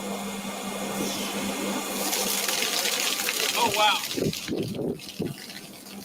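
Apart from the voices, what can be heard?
water pouring from an AWG 5000 atmospheric water generator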